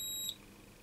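A continuity tester on an Icom IC-706 radio's circuit board gives a short, sharp electronic beep, one brief bright tone with a faint steady whine underneath, in a quiet workbench setting.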